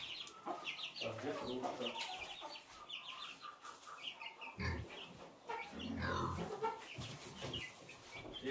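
A pregnant sow grunts and snuffles while being fed in a farm pen. The grunts come in irregular bursts alongside chicken-like clucking and a quieter voice murmuring in the background.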